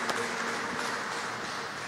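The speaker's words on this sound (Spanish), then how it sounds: "Le damos un fuerte aplauso" Steady, dense applause from a congregation at a Catholic Mass for migrants, a continuous wash of clapping filling the space at moderate volume with no talk over it.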